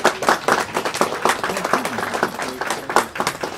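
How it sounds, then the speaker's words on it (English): An audience applauds a hostess at a home gathering with a burst of clapping that rises and falls, while voices talk over it. "How about a round of applause for Ann?"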